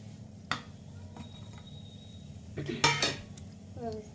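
Spices being stirred into hot oil in a pan while cooking matar kachori, with close metal scrapes and clinks of a spoon against the pan, a sharper flurry of strokes near the end.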